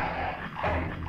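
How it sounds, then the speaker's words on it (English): A dog growls and whimpers in the video game Full Throttle Remastered, a low continuous snarl, close and fairly loud, with no talking over it. "And the dog is chasing me."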